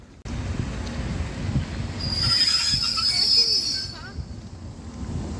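A train's wheels give a high, sustained metallic squeal that swells for a couple of seconds. Steady loud rumble from a Polish railway platform or carriage sits beneath it.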